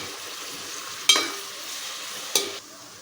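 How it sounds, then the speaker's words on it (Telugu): Onions fry in hot oil for capsicum chicken curry, a soft steady sizzle broken by two brief stirring scrapes against the pan. "చూడండి, ఉల్లిపాయలు వేగుతుంది కదా"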